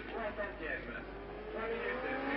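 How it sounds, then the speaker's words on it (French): Race car engines from the 1970 French Grand Prix drone and rise steadily as a Formula 1 McLaren Alfa Romeo is overtaken, heard under continuous commentary. "Andrea De Adamisch qui a eu beaucoup d'ennuis avec sa McLaren Alfa Romeo. Et qui va être doublé là"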